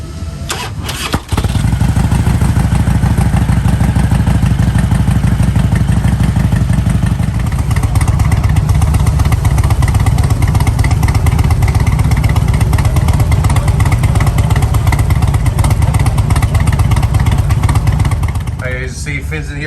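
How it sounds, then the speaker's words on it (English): A motorcycle engine cranks with a sharp start, then runs loud and steady with a clattering idle for most of the clip before cutting out at the end, with a voice talking over it. "we still haven't started the motorcycle"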